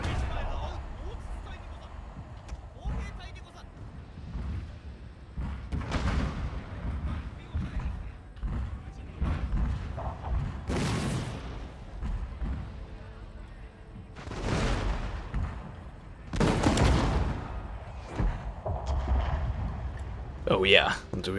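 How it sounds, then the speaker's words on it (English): Howitzer artillery booming in the Fall of the Samurai strategy game, scattered heavy thuds and blasts spread irregularly over a rumbling battle bed, with someone talking throughout. "Our howitzers has opened fire."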